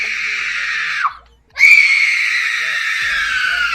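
A child screams loudly and close by in two long, piercing bursts, broken by a short pause, with a brief breathy sound at the end.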